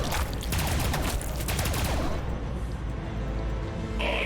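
Sustained barrage of heavy weapons fire from a Warhammer 40,000: Battlesector battle, dense and loud, with overlapping booms rolling continuously and easing slightly toward the end.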